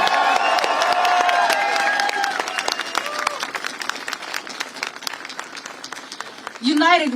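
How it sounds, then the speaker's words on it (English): Crowd applause with scattered cheers at a Washington DC rally for Ukraine, marking one year of the Russia-Ukraine war; a dense, sustained wash of clapping from many people, with voices rising briefly through the noise and a sharp shout at the end. "Big round of applause to all of you here."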